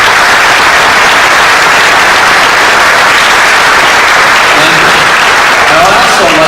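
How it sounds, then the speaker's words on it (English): An audience at a National Honor Society induction ceremony applauds the outgoing executive board, a loud, sustained, dense wash of clapping with a faint voice surfacing near the end. "give a big round of applause to the outgoing executive board"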